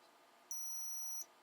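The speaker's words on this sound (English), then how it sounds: "We have our meter in continuity mode, which is a mode that beeps when we have a completed circuit." A digital multimeter in continuity mode gives one steady, high-pitched beep lasting under a second while its probes test a fuse from a faulty Nintendo Switch, heard close and alone over a low background hiss.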